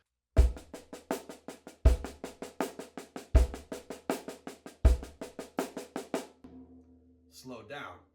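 A drummer plays paradiddle sticking on a kit, with fast, even strokes grouped in four phrases that each open with a low accented hit. The playing stops abruptly near the end.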